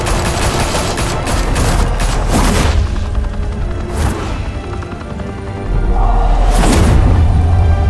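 Heavy gunfire erupts in Batman: The Telltale Series, a dense fusillade of rapid shots and booms filling the scene loudly and almost continuously, with crashes breaking through the barrage.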